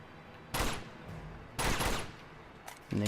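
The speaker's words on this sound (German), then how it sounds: "wenn ich mit der Waffe drauf schieße" Video-game gunfire in Uncharted 2: a few loud, sharp bursts about a second apart, each ringing out briefly before quieter ambience returns, with no talking.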